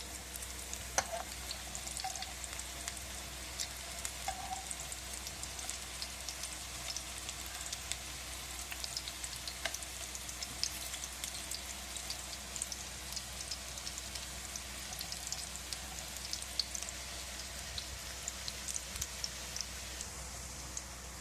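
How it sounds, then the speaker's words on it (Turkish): Steady, soft sizzling and crackling of zucchini and potato fritters frying in hot oil in a pan, continuous with small pops and no talking. "Diğer taraflarını da kızartıyoruz."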